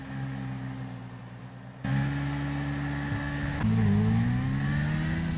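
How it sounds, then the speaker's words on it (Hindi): A big motorcycle in GTA V runs at full speed, its engine a steady loud drone that steps up in pitch twice as it shifts and climbs, with no talk over it. "मैं अपने बड़ी मोटरसाइकिल को फुल स्पीड में लगाकर अपने मेंशन की तरफ आ रहा हूँ।"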